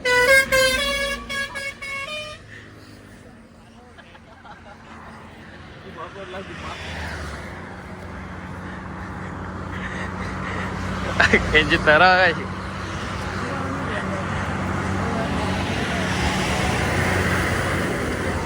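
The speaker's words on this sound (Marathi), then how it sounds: "काही गाड्या बिड्यांचा भरपूर आवाज येतो" Road traffic rumbles past as vehicle horns blare loudly at the start and again in a short burst midway, with people talking close by throughout.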